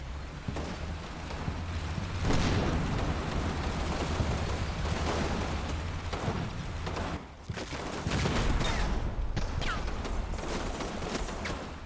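Gunfire crackles in a World War II video game set around Fortress Grosshau, with dense bursts of shots and booming impacts layered over a constant rumbling battle din that briefly drops near the middle.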